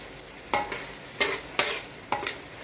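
Masala frying in a karahi for kabab karahi, a soft continuous sizzle broken by a few quick spoon-stirring scrapes at a steady pace, no voices.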